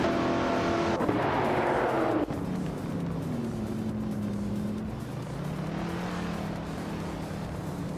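Racing cars, led by a classic 1969 Oldsmobile 442, roar around a short track in a loud, continuous engine drone. Pitch shifts rise and fall as the cars accelerate and pass, with no talk.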